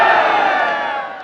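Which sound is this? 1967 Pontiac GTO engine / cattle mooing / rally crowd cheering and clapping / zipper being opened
rally crowd cheering and clapping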